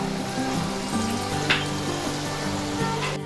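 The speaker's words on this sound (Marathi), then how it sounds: "तेल आपलं तापलं आहे, आता मी अशा बारीक बारीक पसरट अशा भज्या काढून घेते" Small, flat gram flour fritters fry in hot oil for motichoor laddu, making a steady, close bubbling sizzle with an occasional louder spit.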